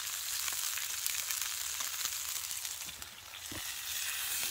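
Hamburger steak frying in a greasy pan at a camping hammock setup, a steady close sizzle and crackle of hot fat with occasional pops, running continuously on its own.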